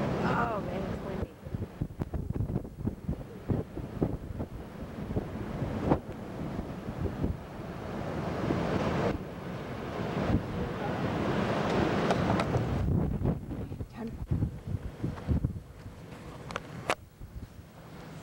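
Strong wind buffets the microphone in a steady roar, with surf-like rushing and occasional gusts, and a voice speaks at times beneath it.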